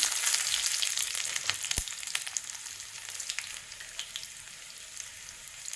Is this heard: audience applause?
no